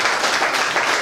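An audience at a rice bag challenge event in Armoor claps and applauds, a dense, continuous burst of clapping close by.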